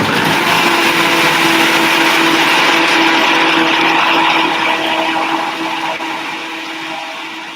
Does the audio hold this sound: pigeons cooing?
no